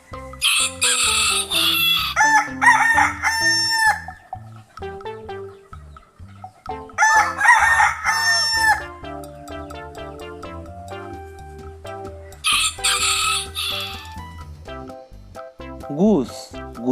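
A rooster crows loudly three times at even intervals, with softer clucking in between, all over a light musical backing.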